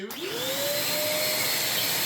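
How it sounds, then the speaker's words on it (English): A V-Tough Mini X2 cordless vacuum cleaner starts up and runs steadily, its motor whine rising quickly to a constant loud drone that holds close by with no talk. "we simply have another vacuum on standby, in this instance the V-Tough Mini X2"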